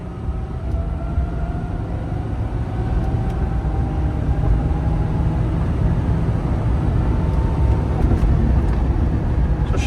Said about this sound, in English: let's do a quick rip from 40. We can see how this thing accelerates